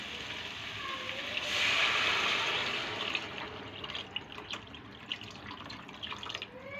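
Tamarind juice is poured into a simmering Telugu fish curry, a soft liquid splash swelling briefly before giving way to quiet bubbling and scattered drips, faint and close.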